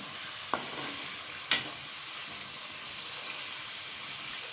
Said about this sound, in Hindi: 1 से 2 मिनट मज़ीद इसको जो है ना फ्राई कर लेते हैं मसालों को, अदरक लहसुन और टमाटर और प्याज को